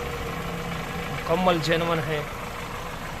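Idling original petrol engine of a 1986 Toyota Corolla at a used-car sale, a steady low rumble running under a man's close speech throughout.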